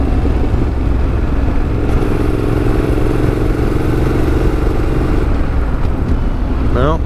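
Yamaha Tenere motorcycle engine idling loudly and steadily close by, with a rising rev sweep near the end as the throttle is blipped on a downshift; a voice speaks briefly over the engine.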